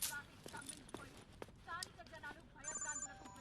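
A telephone bell rings in short bursts while people talk over it and a few clacking sounds come and go.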